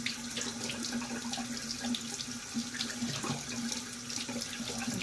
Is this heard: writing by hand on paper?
no